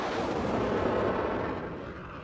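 An AMRAAM air-to-air missile launches from a fighter jet with a loud, sustained roaring whoosh that holds steady and then slowly fades as it pulls away.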